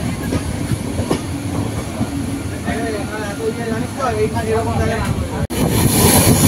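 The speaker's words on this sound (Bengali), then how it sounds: "Howrah Purulia intercity express." The Howrah–Purulia Intercity Express rolls past steadily, a loud continuous rumble with rhythmic clickety-clack of wheels and some squealing, while voices and a faint announcement carry underneath before the noise surges near the end.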